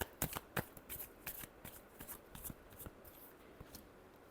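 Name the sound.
shuffling a deck of tarot cards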